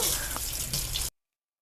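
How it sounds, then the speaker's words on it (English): Water from a tap runs steadily over a houseplant's new leaves, a close, continuous splashing hiss that stops abruptly after about a second. "I'm just gonna run more water over the new leaves"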